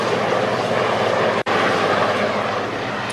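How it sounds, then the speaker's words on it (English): A helicopter flies around the obelisk of Isis, its steady engine and rotor roar filling the air loudly and continuously, broken only by a momentary dropout partway through. "we see a helicopter flying around the obelisk of Isis"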